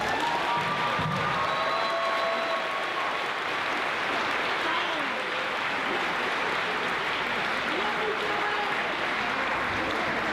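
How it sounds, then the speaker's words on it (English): Middle school audience applauding at a moving-up ceremony, a loud, continuous wash of clapping with occasional whistles and cheers that holds steady across the whole stretch. "the two people that were chosen tonight deserve a great round of applause"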